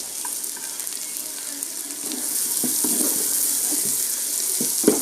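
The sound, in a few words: onions sautéing in a pan for chicken noodles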